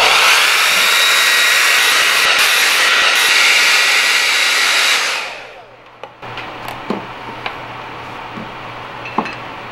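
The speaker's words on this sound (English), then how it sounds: "I believe we can start heating up the headlight" A heat gun blows steadily at a car headlight to soften its glue, a loud continuous airy roar that shuts off partway through, leaving quiet handling clicks.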